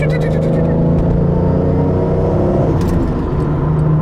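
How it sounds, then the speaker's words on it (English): A 1997 Toyota Supra engine runs close by with a rising whir from its turbocharger spooling up, loud and steady throughout, with a few brief high clicks. "You hear that turbocharger? Yes, that is the noise that everyone wants."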